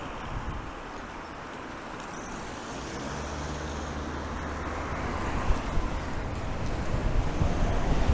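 Strong, gusty wind roars and buffets the microphone of a Super Soco TSX electric motorcycle riding around Lowestoft, a dense continuous rush with low rumbling swells, nearly drowning the faint road noise; nobody talks.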